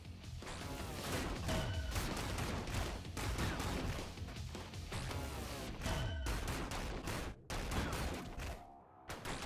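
In the action game ScourgeBringer, dense combat noise of clashing steel and rapid gunfire rattles continuously over a driving heavy metal track, with bursts and crashes piling up throughout.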